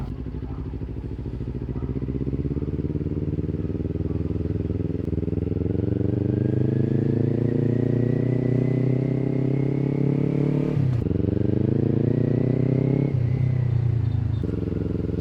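A Kawasaki Ninja 400 motorcycle engine warming up idles close by, a steady throbbing rumble that rises as it revs up, dips sharply, then climbs again.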